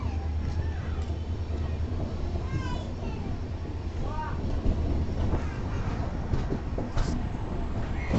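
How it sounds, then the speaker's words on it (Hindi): Vasco da Gama Express pulling out of Hubli Junction, a steady low rumble with rattling and wind buffeting on the microphone for the whole stretch, and voices faintly audible over it. "अभी जो ट्रेन निकल रही है वास्को डिगामा एक्सप्रेस"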